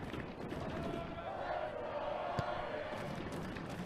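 A stadium crowd at a Notre Dame versus Wake Forest men's soccer match chants in a steady, distant roar that fills the whole stretch, with a faint tonal chant line in the middle and commentary talk over it.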